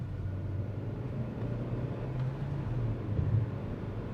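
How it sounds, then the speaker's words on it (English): Kia Seltos turbo-petrol iMT engine pulling at full throttle in second gear, a steady low droning rumble that swells slightly toward the end, heard from inside the car with no talking. "Now check this out one more time, slotting it in second gear and full throttle."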